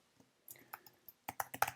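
Quick bursts of typing on a computer keyboard, soft clustered key clicks close to the microphone in a quiet room, a few scattered taps followed by a faster run of keystrokes.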